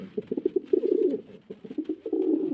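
Mundian pigeons coo close by in a steady run of soft, throaty, rhythmic calls, with a brief pause midway.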